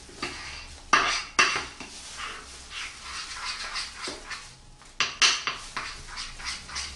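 A spoon scrapes and clinks against a bowl as melted chocolate for Easter eggs is stirred, with irregular sharp knocks and a continuous scraping rhythm, close and fairly loud.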